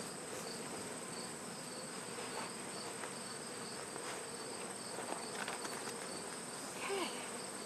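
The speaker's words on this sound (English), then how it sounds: "I had a whole bunch of bees on the outside" Honey bees swarm around an open backyard hive in late summer in Swanzey, New Hampshire, producing a continuous close droning buzz with a few faint handling clicks and rustles.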